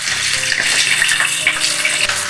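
Oil heats in a wok with a little salt, giving a steady bright hiss and crackle with small irregular pops, loud and close, alone without voices.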